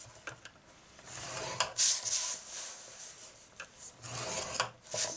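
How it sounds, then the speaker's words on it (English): Card stock being scored for a gift box base, with short repeated rubbing and scraping strokes of a scoring tool along the card, heard close and separated by brief pauses, no speech. "we're going to score it on all four sides at 1 inch"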